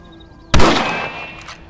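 A single sharp rifle shot rings out in the Western video game Red Dead Redemption, a sudden loud crack after near silence that decays into a long, ringing tail.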